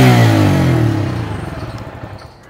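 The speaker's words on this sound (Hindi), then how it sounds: "अब सीएनजी पे साउंड सुनते हैं इसका" A Bajaj Freedom 125 motorcycle engine running on CNG settles from a brief rev into a steady, chugging idle, close by and gradually quieting.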